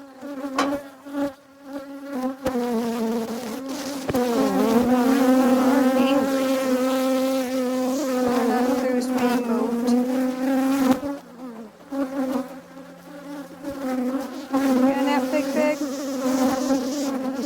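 Honey bees buzz steadily around a hive, a dense droning swarm with a clear pitched hum that rises and holds, loud and close throughout, with brief dips where the buzzing thins.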